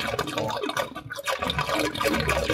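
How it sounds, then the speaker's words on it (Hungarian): Air being drawn into the hot-water side of an Ariston Lydos Hybrid water heater as it drains, producing a loud, continuous slurping, bubbling gurgle with irregular surges and a brief lull partway through. "a meleg oldalon szívja be a levegőt, ennek a szürcsögő hangját halljuk"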